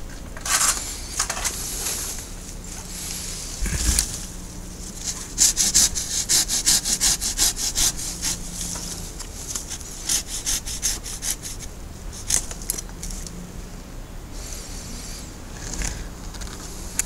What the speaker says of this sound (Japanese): 先ほどここで切った枝ですけれども、やはり元から取ってしまいましょう。